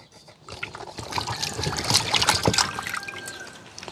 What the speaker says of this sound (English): gotta get the vegetables them wash off